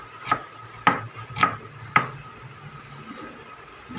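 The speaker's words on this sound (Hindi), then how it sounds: "और ये चाउमीन के लिए काट रहा हूँ।" Knife chopping cabbage and onion on a board at a fast-food chowmein stall: four crisp, evenly spaced chops in the first two seconds, close and moderately loud, then quieter background hiss.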